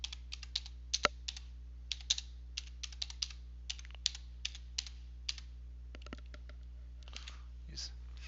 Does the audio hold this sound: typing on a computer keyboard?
yes